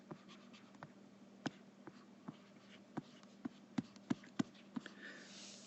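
A pen or marker writing out a math question, with irregular soft scratching strokes and taps over a steady low hum.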